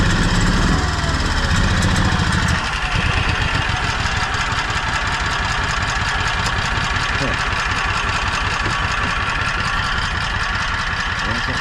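A Toro Workman utility vehicle engine runs loud and steady with a rough, knocking rhythm, revving briefly at first then settling into a continuous idle, close by.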